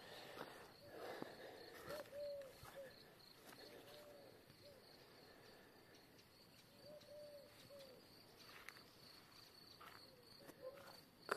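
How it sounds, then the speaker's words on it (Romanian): Crickets chirp in a garden, a faint steady insect trill running through the background, joined by a few soft bird calls, with no voices. "Cât de frumos aud greierii."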